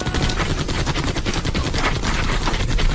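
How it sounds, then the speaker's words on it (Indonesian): Machine-gun fire in a war scene hitting soldiers of a platoon, dense rapid bursts of shots with no letup, loud and close throughout. "tiba-tiba, datang tembakan mesin mengenai 2 prajurit peleton 11"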